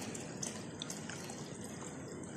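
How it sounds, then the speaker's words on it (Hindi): Water pours steadily into a jug holding falsa berries for a summer drink, a soft continuous splashing trickle close by with small drips on top, no voices. "इसके अंदर अब हम पानी डालेंगे"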